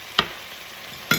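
Spices being stirred into samosa filling in a pan, a faint background sizzle broken by two brief, sharp scraping strokes about a second apart.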